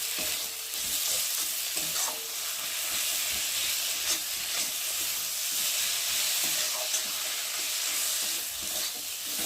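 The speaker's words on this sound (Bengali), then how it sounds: "মশলাটা ভালোভাবে কষিয়ে নিয়েছে আর মশলা থেকে তেলও ছেড়ে দিয়েছে" Ginger and cumin spice paste fries steadily in hot oil for a fish curry, a continuous close sizzle and hiss with occasional stirring scrapes and no talking.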